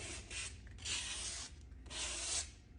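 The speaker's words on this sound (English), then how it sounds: "dry sanding, which is what I'm doing right now" Rhythmic dry scratchy rubbing of sandpaper dry sanding a car headlight, strokes rising and falling in long sweeps, close and fairly quiet.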